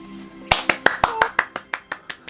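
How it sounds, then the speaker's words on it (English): A single person claps about a dozen times in a steady, evenly spaced rhythm, close and fairly loud, with faint voices beneath. "Round of applause."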